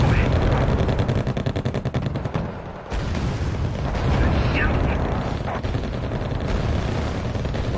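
Tank cannon and gunfire in the Wargame: Red Dragon strategy game, with T-72A tanks firing: a dense, loud, continuous barrage of booms and rattling shots under a steady rumble, with no clear breaks.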